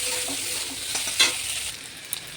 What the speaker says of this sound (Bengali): দেখুন কত সুন্দর করে চিকেনটাকে ভাজছি